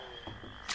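A toad croaks briefly in the Winx Club video game, a short, low, faint croak over a thin steady tone, ending in a quick soft burst.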